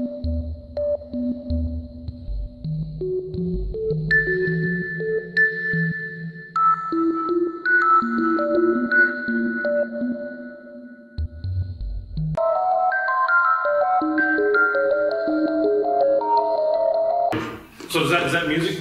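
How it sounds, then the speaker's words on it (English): Melodic music built entirely from pure sine-wave tones, with clear sustained notes stepping through changing pitches in several voices, some reverberating slightly on one side, with no talking. "But it's music all using sine waves."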